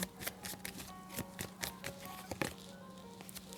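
Tarot cards are shuffled and drawn, giving a quiet run of soft riffling flicks and light taps in an irregular rhythm, faint and close with a low steady hum behind.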